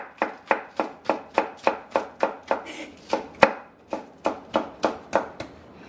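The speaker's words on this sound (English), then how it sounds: "I'm just gonna cut the tips off of there." Scallions being chopped with a knife on a cutting board, about fifteen sharp, evenly spaced chops in a steady rhythm, close and loud, with no talking.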